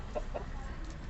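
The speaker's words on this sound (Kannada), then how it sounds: "ಅದ್ರ ಜೊತೆಗೆ ಈ ಒಂದು ಕೋಳಿನೂ ಇರುತ್ತೆ ಇಲ್ಲಿ" A hen that is sitting on eggs and tied up at a family home gives two short, quick clucks close by over a steady low background hum.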